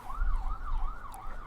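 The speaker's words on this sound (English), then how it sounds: "And then there's some siren" A wailing emergency siren rises and falls steadily in a repeating sweep, moderately loud and continuous, with low traffic rumble underneath.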